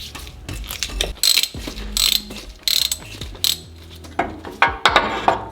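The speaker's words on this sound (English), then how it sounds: "Now we can take our oil filter wrench, make sure it's nice and snug around our actual oil filter." Oil filter wrench working a filter loose on a Toyota Tacoma, giving close, loud bursts of ratcheting clicks and metallic scraping in irregular spurts, with no talking.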